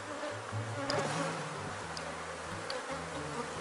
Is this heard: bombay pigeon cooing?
no